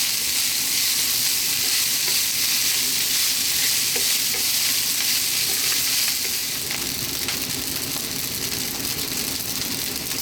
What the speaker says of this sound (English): That is rice frying.